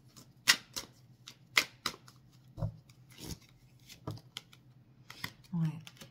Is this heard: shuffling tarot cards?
yes